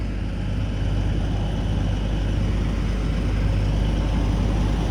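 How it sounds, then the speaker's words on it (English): Semi truck rig backing in with its diesel engine running, a loud, continuous low rumble and idle drone held steady throughout, close by, with no voices. "Got one of the rigs backing in."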